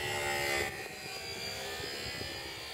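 An RC model airplane engine in flight, a steady high-pitched whine with harmonic tones that swells loudest early on, then holds at a slightly lower, even level.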